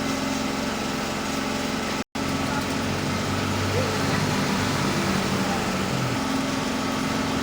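A hot air blower aimed at a phone's LED hisses and whirs steadily at moderate volume, with one brief cutout partway through.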